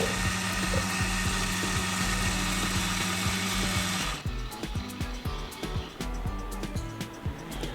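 A mixer grinder whirs loudly while grinding jackfruit with coconut milk, a steady motor drone for about four seconds, then stopping and leaving clattering, rattling jar sounds.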